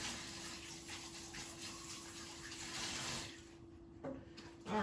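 Tap water runs steadily into a kitchen sink while hands are washed beneath it during strawberry cake baking, a continuous close hiss that drops off near the end with a brief splash.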